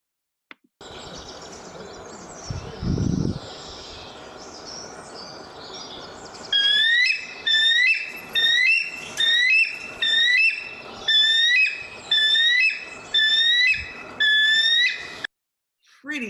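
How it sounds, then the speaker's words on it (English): A bald eagle gives a rapid series of thin, high-pitched whistling chirps in repeated bursts, fairly close, following a stretch of steady background noise outdoors in the Seattle area. "Can you make the sound of a bald eagle?"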